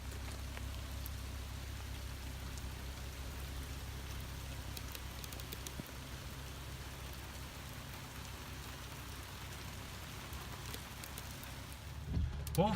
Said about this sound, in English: it's raining really freaking hard